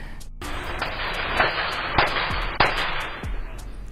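Rapid gunfire captured on a neighborhood surveillance camera at night during a deadly dispute between neighbors: several sharp, distant cracks spaced about half a second apart over a steady background rumble and hiss.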